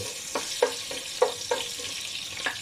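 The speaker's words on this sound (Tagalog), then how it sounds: "Tapos mainit na guys. Lagyan natin ng bawang" Garlic frying in hot oil in a pan for pork igado, a close, steady sizzling hiss with a few soft taps as it is stirred.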